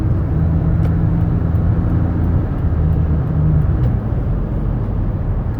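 A 2014 Toyota Sienna LTD wheelchair-accessible mobility van cruises at about 65 mph on the highway, a loud, steady road and engine drone with tire rumble that holds constant throughout.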